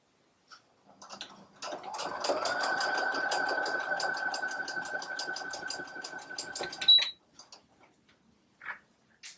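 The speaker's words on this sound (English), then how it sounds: "take that to my sewing machine to do a stretch stitch or a zigzag stitch" A sewing machine zigzag or stretch stitches T-shirt side seams in a steady rapid rhythm for several seconds, its motor whirring under quick needle ticks, then stops with a few clicks.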